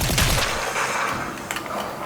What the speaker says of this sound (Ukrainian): Будь обережний, бо я чую, як хтось стріляє.